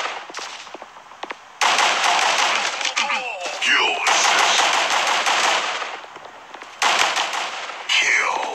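Loud, close machine-gun fire in the Guns of Boom shooter game, long rattling bursts broken by brief pauses, with a few separate shots between them.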